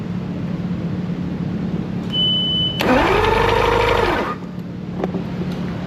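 A boat engine with no spark is cranked over by its starter for about a second and a half, giving a loud whirring grind that stops abruptly. Before and after it there is a steady low hum, with a brief high electronic tone just before cranking.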